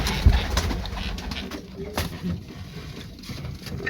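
Pigeons coo close by in soft, low, repeated calls over a busy background of rustling and light noise, with no one talking.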